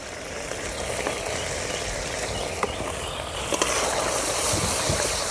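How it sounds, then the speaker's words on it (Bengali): Spice paste of chilli, salt and turmeric being fried in oil for a traditional Bengali koi fish curry, a steady close sizzle with faint scraping and clinks throughout. "মশলাটা ভালো করে কষিয়ে নেব।"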